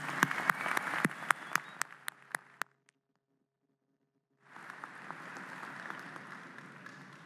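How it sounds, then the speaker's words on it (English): Graduation-ceremony audience claps in a steady wash with a few sharp, isolated claps standing out, fading into brief silence before a second burst of applause resumes and carries on at moderate level. "Have another round of applause."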